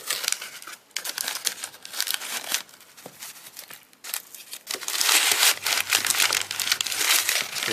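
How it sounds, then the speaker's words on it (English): A blade cuts through a taped-up flat rate shipping box, giving close, irregular crinkling, tearing and scraping of cardboard and packing tape in uneven bursts, with no voices. "Let's cut this some more."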